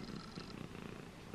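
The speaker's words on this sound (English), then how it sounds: "She is purring away." A cat purrs softly and rhythmically close by in a quiet room, a faint low rolling rumble with no voices over it.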